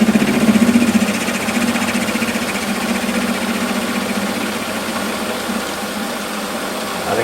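A WARCO metal lathe runs at about 650 rpm, making an intermittent cut with a carbide tool on a shop-made quick change tool post part. It gives a loud, steady mechanical whir with a fast, rattling, ratchet-like chatter, close and continuous, with no talking.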